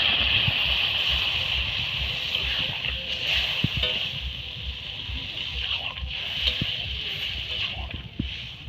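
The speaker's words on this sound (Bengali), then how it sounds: "এবার অল্প করে জল দিয়ে দেবো" Water added to a pan of home-grown taro curry with chela fish makes a steady, continuous sloshing pour with faint gurgling underneath.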